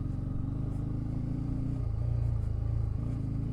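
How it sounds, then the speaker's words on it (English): Raspy exhaust of a Bajaj Pulsar N250 motorcycle ridden off-road, a steady low rumbling drone that swells slightly near the middle, close and continuous with no talk. "The exhaust sounds raspy."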